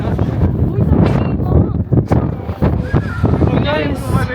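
Very strong wind outdoors in Tokyo, Japan, rumbling and buffeting against the microphone in loud irregular gusts, with people talking over it throughout.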